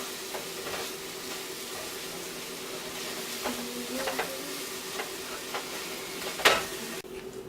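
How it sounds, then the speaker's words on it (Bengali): Eggs being scrambled in a pan and stirred from the edges inward give a soft, steady sizzle with intermittent scraping and tapping of the utensil, including a sharper clack near the end. "স্ক্র্যাম্বল করার জন্য বাইরের থেকে ভিতরের দিকে টেনে টেনে নিয়ে আসার চেষ্টা করতেছে"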